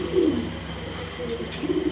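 Exhibition pigeons in a loft coo softly in low, rounded bursts, one call at the start and another near the end, against a quiet hum.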